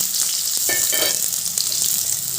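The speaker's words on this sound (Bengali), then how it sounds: "এবার আমি তেলের মধ্যে দিয়ে দিচ্ছি ছোট ছোট টুকরো করে কেটে রাখা আলু" Small pieces of potato fry in hot oil with cinnamon, bay leaf and cumin seeds, a bright continuous sizzle with a brief louder crackle and some stirring scrapes, close up and free of talk.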